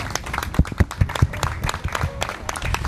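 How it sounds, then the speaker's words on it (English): Scattered applause at a classic car show prize-giving, where the owner of an MG TF 1500 is being honored, sounds as a loose, uneven patter of claps from a modest gathering nearby, with distinct individual hand strikes. "Well done, a round of applause to Brian."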